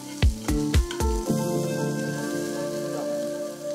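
Garlic cloves and chopped onion stir-fried in a pan, opening with a few sharp clattering knocks of the spoon against the pan, then a steady close sizzle that carries on without talk.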